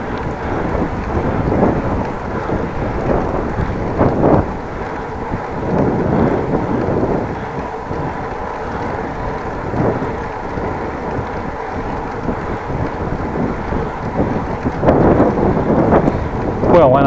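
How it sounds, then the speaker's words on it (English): Steady roaring head-on wind buffeting a microphone while cycling along a road, loud and continuous with gusty swells, with occasional faint voices underneath. "Feels like I'm getting a more head-on wind."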